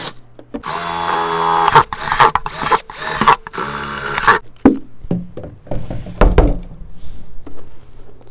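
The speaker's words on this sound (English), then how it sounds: "before you cut the hinge, you always want to drill first in the bottom." A power drill whirs loudly for several seconds while drilling drainage holes in the bottom of a plastic container, pausing briefly between bursts, then gives way to clattering handling and faint scraping noises.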